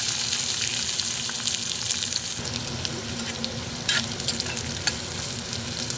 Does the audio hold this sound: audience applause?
no